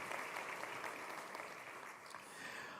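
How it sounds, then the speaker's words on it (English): A congregation applauds at a synagogue sanctuary dedication, a soft, continuous patter of many hands heard faint and somewhat distant, holding steady throughout. "Could we please get a round of applause for all these incredible souls"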